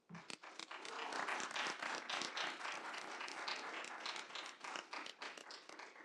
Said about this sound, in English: Please join me in a round of applause for the members of the Monroe County Community School Board of Trustees